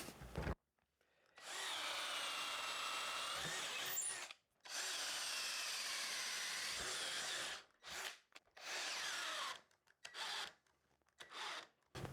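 Ryobi RDD18-0 18V cordless drill-driver driving square-drive screws, with several loud, close whirring runs of a few seconds each separated by short silences, the later runs shorter and more broken.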